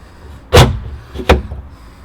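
The metal door of a fish smoker holding drying mackerel is shut, producing two close, solid thuds about three quarters of a second apart, the first louder, in an otherwise quiet space.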